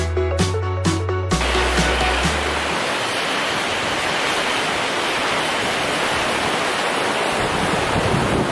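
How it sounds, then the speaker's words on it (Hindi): Water rushing in the snowy Solang Valley near Manali, a steady broadband roar that fills the clip, preceded by a few brief low thumps and tonal bursts in the opening second. "बहुत ही सुंदर पानी का आवाज"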